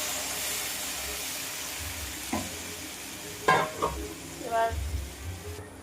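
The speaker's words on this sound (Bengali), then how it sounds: "এবার সামান্য জল দিয়ে দেবো" A little water splashed into a pan of shrimp, ash gourd and fried potatoes cooking in oil, producing a low background sizzle broken by a few sharp bursts of hissing and stirring.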